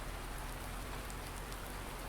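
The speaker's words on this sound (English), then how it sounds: "And it's raining" Rain falls in the game Farming Simulator 19 as a dense, even patter with scattered droplet ticks, steady and moderately quiet, with no voices.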